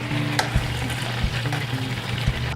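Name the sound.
chicken browning in a skillet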